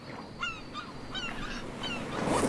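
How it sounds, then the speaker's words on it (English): Seagulls calling overhead in the Stranded Deep survival game, a handful of short honking cries repeating over a soft steady background wash. "seagulls flying overhead there."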